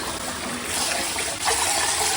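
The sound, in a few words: rinsing rice in water, swirling and dumping water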